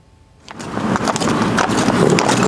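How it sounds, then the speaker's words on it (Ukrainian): Police patrol horses' hooves clip-clop steadily on hard pavement of a Kyiv street against a broad wash of city noise, starting after a brief quiet moment and continuing throughout. "До шумів міста додається цокіт копит"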